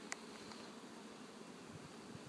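Bees hum and buzz steadily around a beehive being set up, a soft continuous drone close by with no voices.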